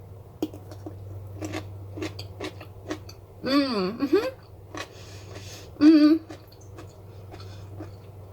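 Rinsed brined pickled food being chewed close to the mic, with crunchy bites, wet squishy chewing and a couple of louder squelchy bursts over a low hum, no talk.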